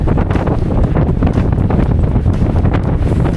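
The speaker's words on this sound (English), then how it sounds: "Hopefully the wind is now at my back, though it's blowing around" Strong wind buffets the microphone outdoors at Monemvasia on the Peloponnese coast in Greece, producing a loud, continuous low rumble with gusty swells and no break for the full duration.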